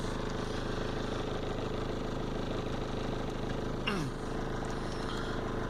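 A Toyota Corolla 2.0 diesel engine idles steadily after a cold start with a low, even rumble and clatter, close by, with a faint short whine near the end.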